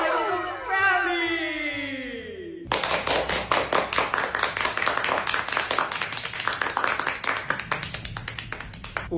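Children at a state-private primary school clap for a donor, a dense burst of many hands breaking out after a short stretch of talk and carrying on steadily to the end.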